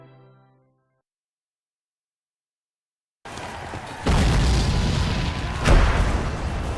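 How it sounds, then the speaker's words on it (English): Union artillery in the History Civil War: Secret Mission video game, heard after a short fading tone and about two seconds of silence as a rumbling barrage of booms builds in loudness, with sharper blasts standing out. "Union artillery decimates Southern ground troops."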